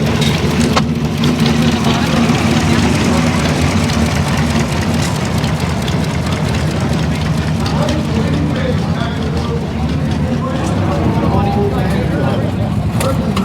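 Vintage hit-miss engines run among old farm implements at a car show and drag race at Irwindale Speedway, a continuous loud engine rumble mixed with crowd noise and people talking nearby.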